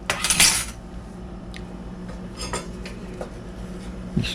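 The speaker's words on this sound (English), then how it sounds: "Stir and stir and stir" A utensil stirs dried basil and oregano into a tomato, pepper and onion braising sauce for salmon, starting with a bright scrape and clatter and then giving way to soft, scattered clinks against the pan.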